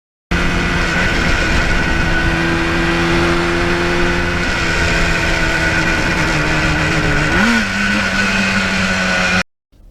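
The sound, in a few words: RD400 motorcycle riding, shifting through the gears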